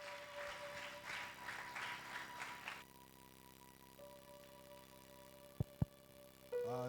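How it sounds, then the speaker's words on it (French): Congregation applauding for the Lord during a Sunday church service, a steady wash of clapping for a few seconds that then fades, leaving a quiet room with a couple of sharp knocks and a rise of sound at the end. "acclamer pour le Seigneur"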